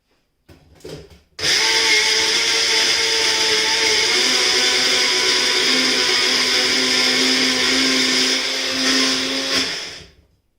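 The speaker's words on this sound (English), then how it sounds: "So I'm going to use just my like NutriBullet, my little, one-handed blender. I'm trying to just cream the banana so it gets into a puree." A small NutriBullet one-handed blender purees banana in a kitchen, its motor whirring loud and steady for about nine seconds after a brief start, then cutting off.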